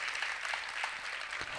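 Congregation at a Telugu church sermon clapping, a steady dense wash of handclaps at moderate distance, faint in level and without clear pauses through the short stretch.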